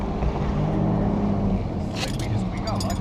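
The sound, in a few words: drift car engine losing throttle and dying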